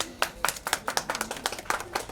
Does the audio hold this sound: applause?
yes